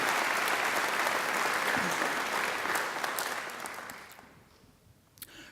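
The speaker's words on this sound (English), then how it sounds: "I think he deserves another great round of applause." Graduation ceremony audience gives a congratulatory round of applause, a thick, sustained crowd clapping that holds steady before thinning and fading away, with a few last scattered claps near the end.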